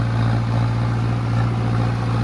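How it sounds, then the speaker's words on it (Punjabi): A Mahindra Arjun 605 diesel tractor turning while ploughing a field, its engine a loud, steady, close drone that holds without a break. "ਦੇਖੋ ਟਰੈਕਟਰ ਕੀ ਕਰਦਾ ਮੋੜ ਤੋਂ ਮੋੜਨ ਵਿੱਚ ਆਦਾ"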